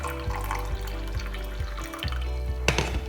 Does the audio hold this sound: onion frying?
no